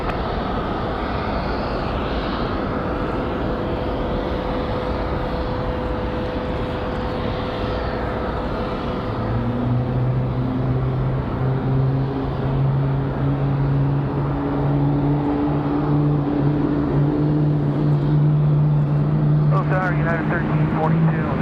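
A Southwest airliner takes off from runway 23 left at Raleigh-Durham International: a loud, steady jet roar swells as rising engine tones climb and build through the second half.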